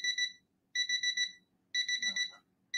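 An electronic alarm beeps in repeated bursts of four rapid tones separated by short pauses, moderately quiet, with a faint voice murmuring during one burst.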